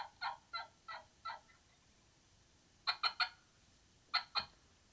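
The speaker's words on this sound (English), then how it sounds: "you can hear him gobble" A wild turkey gobbler calls outdoors in spring woods, a run of four evenly spaced throaty bursts followed by quicker clusters of two and three, moderately distant and clear over a quiet background.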